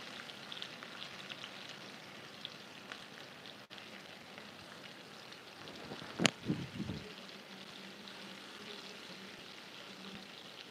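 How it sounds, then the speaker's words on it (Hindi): Chopped onions frying in a pan for masala dosa, a soft steady sizzle throughout, with a short louder clatter and stirring burst near the middle before the quiet frying resumes. "प्याज नरम हो जाए तब तक इसे हम पकाएंगे।"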